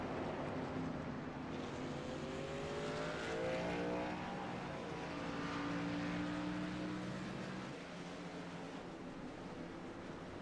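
Race cars from a video game circle the Talladega track, a steady engine drone with pitch rising and falling as cars sweep past over about ten seconds.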